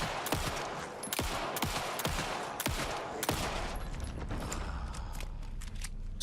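Pistol gunfire in Alan Wake 2: a rapid series of about eight sharp, loud shots over the first few seconds, followed by mechanical clicks and a rumbling ambient bed.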